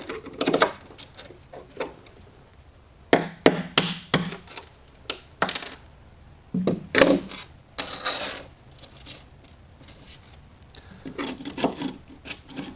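A hammer taps a chisel to break out porcelain tile on a foam shower pan, giving sharp, close clusters of knocks and scraping rasps in irregular bursts with short pauses between.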